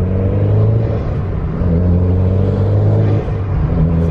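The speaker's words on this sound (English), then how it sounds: "So that's how the intake should sound." A tuned Mitsubishi Evo X with bolt-on mods, fresh from the dyno, drones along with a loud steady engine and intake rumble heard from inside the car, with no talk.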